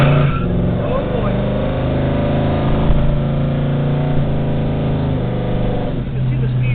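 1970 Chevrolet Chevelle engine while driving, a deep steady droning rumble with strong low harmonics holding close and loud throughout, with a slight rise in pitch near the end.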